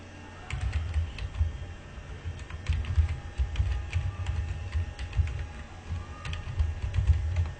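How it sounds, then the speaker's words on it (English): Someone types on a computer keyboard while filling in an online DV Lottery application, key clicks coming close and steady in quick irregular bursts with short pauses between them. "Type your email in here,"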